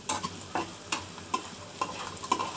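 Onions frying in oil with two small bay leaves and two cinnamon sticks, stirred steadily: rhythmic scraping strokes about every half second over a continuous close sizzle.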